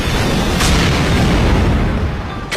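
Anime magic fireball spell effect: a dense, roaring rumble of fire and blast, loud and sustained, with faint sharp bursts at the start and end.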